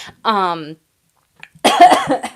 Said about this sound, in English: I'm coughing here to be able to just speak